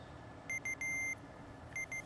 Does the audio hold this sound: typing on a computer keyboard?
no